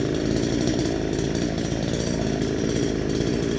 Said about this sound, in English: Those Chinese copy chainsaws, they just got no grunt.